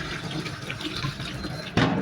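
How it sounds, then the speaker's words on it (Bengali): Cold tap water runs steadily over boiled noodles in a kitchen sink, a continuous close rushing splash that swells louder near the end, with no talking. "ঠান্ডা পানি দিয়ে ভালো করে ধুয়ে নেব, যাতে আটা আটা ভাবটা না থাকে"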